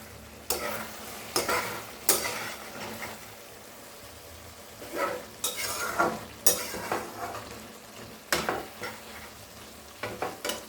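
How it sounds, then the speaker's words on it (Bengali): Vegetables for khichuri sautéing in a pan, a soft background sizzle broken by repeated scraping strokes of a spatula against the pan, arriving in irregular bursts throughout. "সবজিটা প্রায় কষানো হয়ে গেছে।"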